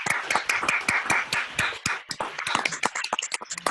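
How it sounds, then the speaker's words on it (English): Brisk, irregular handclapping from a Zoom audience at a live online musical, a scatter of close and distant claps overlapping without speech. "a big round of applause, everyone"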